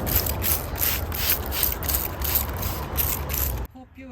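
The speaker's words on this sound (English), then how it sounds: "I'm going to spray a little bit to clear out the excess mess" A handheld spray bottle mists water over rain-soaked cactus soil in a Japanese garden arrangement: steady close hissing bursts with a rhythmic pumping texture for several seconds, then cutting off abruptly as a faint voice begins.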